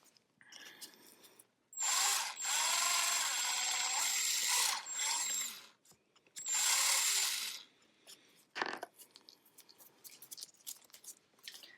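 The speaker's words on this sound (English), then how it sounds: "so I'm gonna drill a little bit more." A power drill bores into a figure head cast in bursts: two long, loud whirring runs separated by a pause, then a short final buzz among faint handling clicks.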